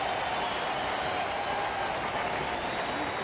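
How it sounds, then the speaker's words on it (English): A baseball crowd at a Reds home game in Cincinnati against the A's rises to its feet, a loud, sustained roar of cheering and applause filling the stadium with steady crowd noise throughout. "Crowd to their feet."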